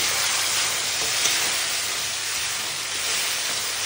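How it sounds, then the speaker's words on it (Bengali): Spice masala fries in a pan with a splash of water, giving a steady, dense sizzle that stays even and close throughout, with no voices. "ভালো করে এবার একটু মশলাটা কষিয়ে নিই"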